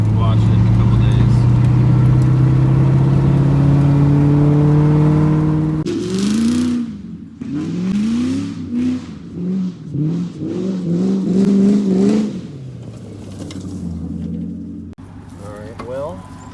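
A 400,000-mile Ford Mustang engine drones steadily at first, then revs hard several times in quick rising bursts. Each throttle blip climbs and falls sharply, and the sound is loud and close throughout.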